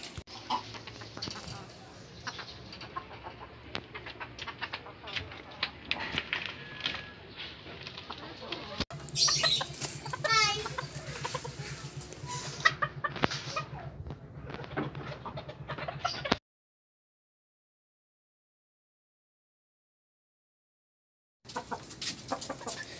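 Sebright bantam chickens clucking in a backyard coop, soft intermittent clucks and calls over faint ambient noise and a low hum, with a person talking nearby; sound cuts out to silence for several seconds near the end.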